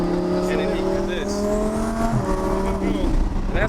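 A twin-turbo Audi R8 accelerates at about quarter throttle, its engine droning loud and close with a rising, steady tone and a faint tire note, while people talk inside the car.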